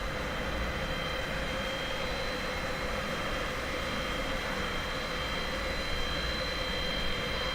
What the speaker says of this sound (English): It's the private jet next to us.